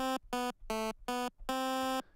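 A buzzy 12.5% pulse wave tone from the Magical8bitPlug2 chiptune synth plugin recalls old NES and Game Boy sound, with five thin, reedy notes of varying length played one after another, up close and alone.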